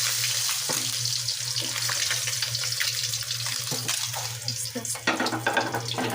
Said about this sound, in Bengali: লাল করে মাছটি ভেজে নিচ্ছি